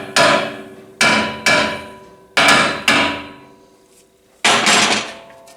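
A hammer strikes the face of a seized brake rotor on a 2016 Ford Escape to rattle it loose, five sharp metallic bangs with ringing decay, irregularly spaced and close, with no talking.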